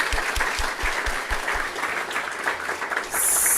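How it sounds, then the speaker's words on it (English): An audience at a Flutter developer conference applauds after a talk, a steady patter of many hands clapping at moderate distance, with a few distinct low thumps early on and a brief burst of high noise at the end. "Let's give a round of applause to him."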